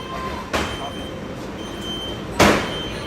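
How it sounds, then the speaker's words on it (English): Monorail train doors at a theme park slide shut with two sharp whooshing bursts about two seconds apart, the second louder, over a steady background hum of the train and crowd. "We're going wherever this monorail goes."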